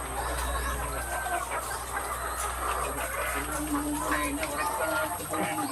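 Chickens cluck softly amid a steady hum of background noise and faint chatter, with scattered bird calls throughout.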